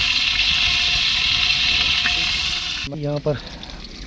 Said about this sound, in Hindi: घी जो है ना वो छिड़क रहा है, ये देखें